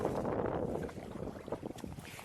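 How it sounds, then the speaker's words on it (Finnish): Gentle water sloshing and paddle strokes from a canoe on a lake, mixed with wind buffeting the microphone, fairly quiet and close. "meloskellaan nyt leiriä kohti"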